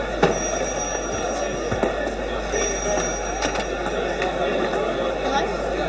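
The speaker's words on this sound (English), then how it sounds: "Oh, Shorty, please answer the phone." A telephone rings repeatedly in a busy indoor scene from a miniseries, its bright pulsed tones cutting through clattering background noise and voices.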